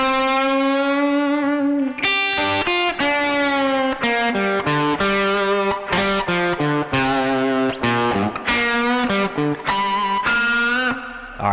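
An overdriven electric guitar plays the first two licks of a rock guitar solo back to back. Quick picked notes and held bends repeat in a steady, loud stream up close, with no talking.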